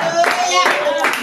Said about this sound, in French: Applaudissez, applaudissez pour le Seigneur Jésus.